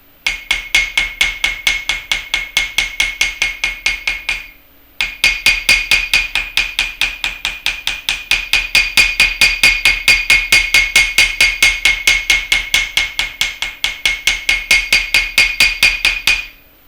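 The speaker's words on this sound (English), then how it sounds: "So controlled movement is the best for hammering" A small hammer strikes wire for a wire-wrapped heart pendant in quick, even, ringing metallic taps, close and loud, with one brief pause before the steady rhythm resumes.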